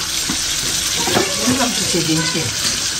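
Steady sizzling and frying from a pan on the stove, fish curry under way in a home kitchen, loud and continuous with a voice talking over it.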